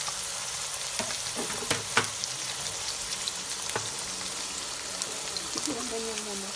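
Garlic and onion sauté in a pan for a pork giniling dish, giving a continuous crackling sizzle with a few sharp pops and stirring knocks; a faint voice may sit underneath.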